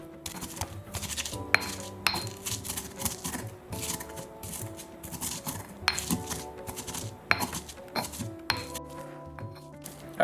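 Black pepper and garlic are being pounded in a mortar with a pestle: a quick, irregular run of hard clicking and clinking knocks, close and fairly soft, with no talk.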